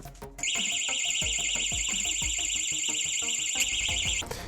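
A portable door-stopper alarm sounds a loud, continuous high-pitched electronic siren for about four seconds, close by, with rhythmic thumping underneath and no voices.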